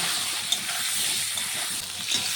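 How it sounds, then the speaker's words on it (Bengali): Pointed gourd fries in hot oil with a pinch of salt and turmeric, giving a steady, soft sizzling hiss throughout with no talking. "এই তেলে পটলটি ভেজে নেব দেব সামান্য একটু নুন দেব একটু হলুদ গুঁড়ো দিয়ে পটলটাকেও খুব ভালোভাবে ভেজে নেব"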